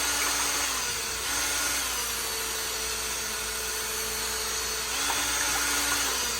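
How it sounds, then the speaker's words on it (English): Power drill on high speed mixing plastic fishing bait ingredients for green pumpkin soft lures, a steady whining motor hum with slight pitch dips, close and continuous throughout. "I turn my drill on high."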